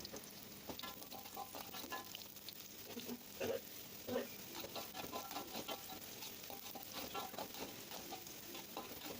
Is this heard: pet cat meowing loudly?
no